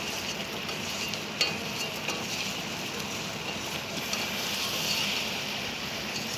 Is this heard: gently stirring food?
yes